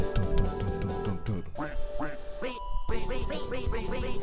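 Repeated duck quacks chopped into a meme music edit, landing in rhythm over a loud driving beat and synth track, with a brief break before the drop.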